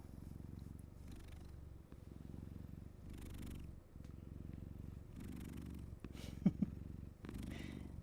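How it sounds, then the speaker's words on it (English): A soft, steady cat purr close up, rhythmic low rumbling cycles with faint rustles and a small bump partway through. "I'm glad you can hear the purr."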